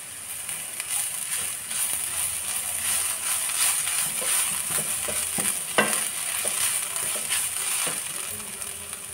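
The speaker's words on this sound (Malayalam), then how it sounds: "അരിഞ്ഞു വെച്ചിരിക്കുന്ന പ്ലാവില നമ്മൾക്ക് ഇട്ട് കൊടുക്കാം. ഇനി നമുക്കൊന്ന് ഇളക്കി കൊടുക്കാം." Chopped jackfruit leaves frying in a pan for thoran are stirred, giving repeated scraping strokes over a constant soft sizzle, close and with no talk.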